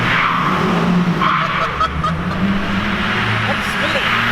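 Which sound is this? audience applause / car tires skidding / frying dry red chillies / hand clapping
car tires skidding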